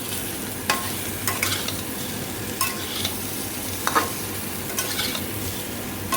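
Spiced papaya being stirred in a pan, with a spoon scraping through the pieces in several distinct strokes over a steady, soft frying sizzle.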